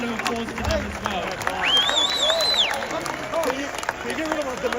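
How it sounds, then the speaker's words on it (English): A crowd at an anti-abortion rally in Sydney claps steadily through the whole stretch, mixed with voices, a rising whistle-like cry and scattered shouts from the gathering. "So give a big round of applause to them as well."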